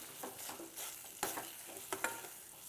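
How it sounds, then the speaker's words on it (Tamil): Urad dal filling fries in hot oil while a spoon stirs it, making a close, steady sizzle with a few scraping stir strokes. "சும்மா ஒரு கிளறு அந்த எண்ணெயில் புரட்டி எடுத்துட்டா போகிறோம்."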